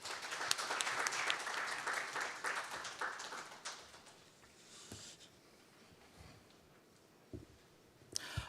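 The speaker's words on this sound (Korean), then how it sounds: "뜨거운 박수 부탁드리겠습니다" Conference attendees at a Korean fraud-prevention session applaud a financial regulator taking the stage, a brisk burst of clapping that fades out after about four seconds into quiet room tone with a few small knocks.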